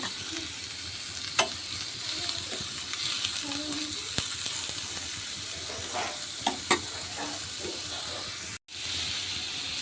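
Chopped onion and green chili fry in hot oil in a kadai, a steady close sizzle with spatula scrapes and clicks running through, a brief dropout near the end.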